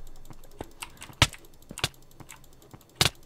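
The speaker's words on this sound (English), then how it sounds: "it's kind of close to my keyboard, so you might hear some clicking" Computer keyboard keys click close to the microphone during a Minecraft Pocket Edition survival games match, a loose run of sharp taps with a few louder clacks and gaps between them, no talk.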